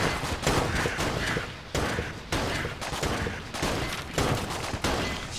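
Burst-fire gunshots from the video game Enter the Gungeon sound as loud, repeated volleys of rapid shots with brief gaps between bursts, with no talk.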